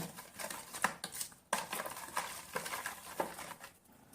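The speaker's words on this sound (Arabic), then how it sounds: "هقلب بقى الخليط الحلو ده كويس جدا كده" A chicken breast marinade being stirred in a bowl, with quiet, uneven scraping and clicking strokes repeating close by, alone without talk.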